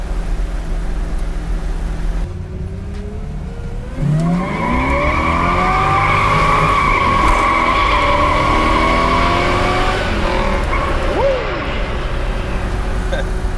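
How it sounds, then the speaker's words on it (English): A 1969 COPO Camaro replica with a 427 engine launches hard on a closed road, its loud V8 roar climbing through rising revs and gear shifts, with tire squeal in the mix, close and dominant for most of the run. "we can actually test out the acceleration"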